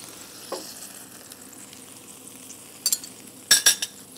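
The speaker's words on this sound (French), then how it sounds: "on va déglacer au vin blanc afin de pincer les sucres" White wine hitting a hot bimetal pan to deglaze it, a quiet steady sizzle punctuated by a few sharp metallic utensil clinks and scrapes toward the end.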